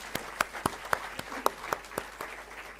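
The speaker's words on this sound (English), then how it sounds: "a round of applause for all bright students" Sparse, scattered clapping from a few people at a graduation convocation ceremony, about a dozen distinct claps spaced unevenly and fairly quiet in a large room.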